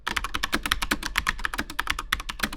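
Rapid, steady typing on a cheap $30 Amazon keyboard with linear switches, close and crisp, dense keystrokes clattering continuously with no pauses or voices.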